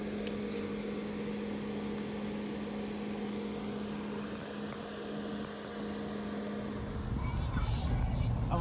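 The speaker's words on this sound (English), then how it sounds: "we're stuck in traffic" Car traffic heard from inside a vehicle stuck in slow traffic on a hot day, with a steady engine hum and road rumble. Other vehicles pass faintly, and the noise grows louder near the end.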